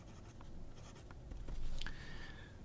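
A Lamy Safari fountain pen with a broad nib writes on paper, giving faint, close scratchy strokes over a couple of seconds with one brief sharper squeak.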